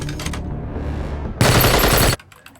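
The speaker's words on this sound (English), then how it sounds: "the eye in the sky is picking up gunfire in Zone 12" Sustained automatic gunfire bursts loud and close in a sci-fi cyberpunk action scene, following quieter rumbling ambience and ending abruptly with faint residual clatter.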